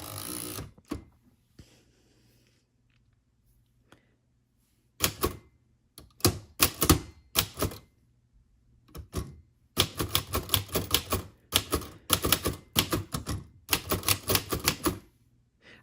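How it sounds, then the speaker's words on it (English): Slow, heavy keystrokes on a vintage manual typewriter, typed two-fingered in irregular clusters of loud clacks separated by pauses, close and alone. "It takes so much power to hit these keys. It is not like typing on a keyboard."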